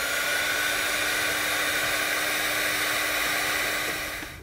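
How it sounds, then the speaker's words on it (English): Heat gun blowing a steady, loud airy roar while sealing the ends of crimped wire connectors during a trailer brake controller installation on a 2020 Ford, cutting off near the end. "we can grab a heat source. I'm using a heat gun."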